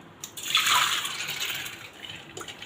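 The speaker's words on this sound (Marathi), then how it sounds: "कुकरमध्ये डाळ भिजेल एवढंच पाणी घालायचं आहे" Water poured into a pressure cooker over a cup of washed chana dal, a short gushing pour that swells quickly, then eases into a softer trickle, close and clear with no talking.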